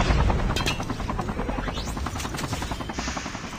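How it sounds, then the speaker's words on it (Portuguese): Helicopter arriving overhead in the mobile shooter Call of Duty Mobile, its steady rotor chop running loud and continuous beneath rapid bursts of gunfire throughout. "Outro helicóptero chegando."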